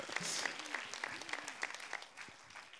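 Studio audience applause after a cover song is performed live on French radio, brief, faint clapping that swells then thins out within a few seconds.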